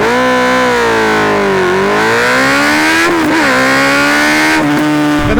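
A Honda CB 650F motorcycle with an 87-horsepower engine accelerates hard from 0 to 100 km/h, its loud, close engine note climbing through the gears with short dips at each upshift.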